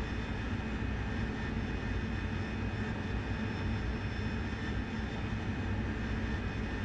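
A steady, loud jet engine roar from an AV-8B attack aircraft in the flight simulator DCS World, flying at night during aerial refueling; a continuous broadband rumble and hiss holds evenly throughout with no voices.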